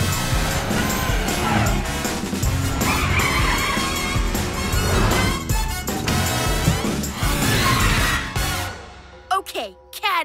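The PJ Masks cartoon cat car's tires screech and its engine revs as it speeds off amid music and excited voices, ending in a quick whoosh.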